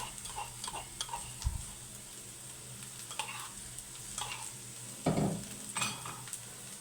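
Garlic cloves fry with softened onion and potatoes in a pan, giving a faint, steady sizzle with a few spoon scrapes and stirring knocks close by.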